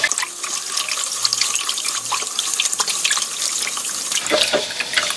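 Coarse salt being stirred into about 1500 ml of water for brining napa cabbage kimchi, with close, continuous sloshing and trickling water and small splashy bursts, no voices.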